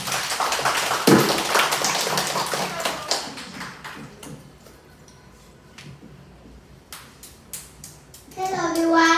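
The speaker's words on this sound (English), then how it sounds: "Can we have a round of applause?" An audience claps for someone speaker at a children's debate, a brief patter of applause that swells and thins out, with scattered taps afterward before a young voice begins speaking.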